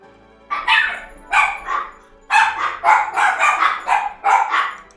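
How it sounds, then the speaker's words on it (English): Dogs bark repeatedly and loudly close by in an irregular series of sharp barks, some bunched in quick bursts, with short quiet gaps between them. "These dogs, man."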